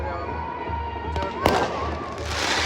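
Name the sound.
firecrackers bursting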